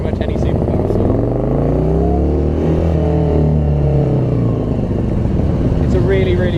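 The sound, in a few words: Morgan car engine revving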